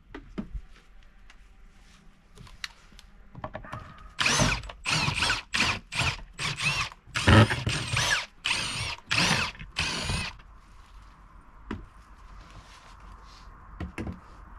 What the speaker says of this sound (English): Alright, we're just unscrewing the back of this board.